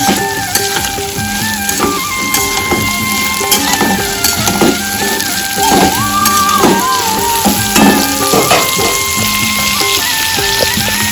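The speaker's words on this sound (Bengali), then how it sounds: "এগুলোকে ভালো করে ভেজে নিতে হবে।" Capsicums and chillies fry in a pan for rice chilli chicken, a steady dense sizzle running the whole time with clinks and scrapes of a spatula stirring against the metal, close and fairly loud, no voices.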